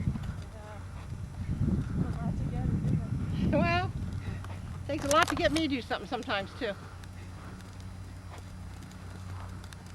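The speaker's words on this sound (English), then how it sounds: "Nice round trot though, he's not walking yet." A horse trots at a clinic, its soft rhythmic hoofbeats running under a person's talk and fading later into quieter background noise.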